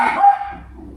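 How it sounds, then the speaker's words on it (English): A dog barks in a garden, a single short burst that is close and fairly loud before fading out. "sorry, that's my dog barking."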